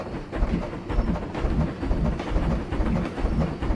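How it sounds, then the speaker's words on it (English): Train ride in the theme-park game Planet Coaster, a loud, close rumble with rhythmic clickety-clack thumps repeating steadily as the cars roll along, with no talking. "So, we're gonna take the train."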